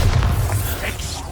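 A Bombarda spell in Hogwarts Legacy lands as a heavy, low boom at the start, then fades into a muffled rumble with a voice faintly audible.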